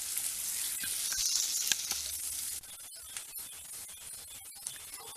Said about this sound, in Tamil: வெங்காயம் நல்லா கலர் மாறி நல்லா மொறுமொறுன்னு வேகணும்.